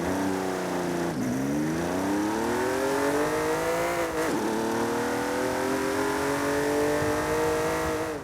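A Jaguar XJ13 classic race car engine in Forza Horizon 5 revs hard and steadily, dipping briefly twice before climbing again, loud and close with a synthetic video-game quality.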